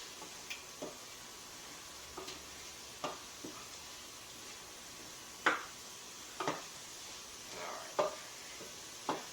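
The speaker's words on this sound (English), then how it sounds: "we're just frying up the onion till it's opaque" Onions sizzle steadily in a pan with a soft hiss, broken by occasional clicks and scrapes of stirring, quiet and close.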